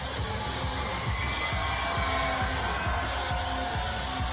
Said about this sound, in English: It's nice to hear smaller arenas where you can hear like the reverb of the crowd.